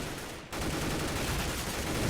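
M4A4 rifles fire in a dense, continuous burst during a Counter-Strike esports match, loud and sustained after a brief quieter moment at the start, with no voices over it.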